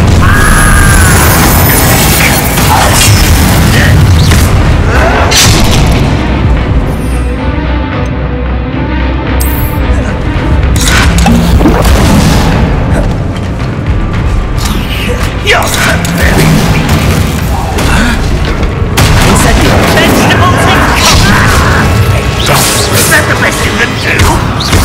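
Fire spell blasts and combat in the Hogwarts Legacy video game, loud booming bursts, crashes and whooshes layered densely throughout, with a short quieter swell in the middle and occasional character voices.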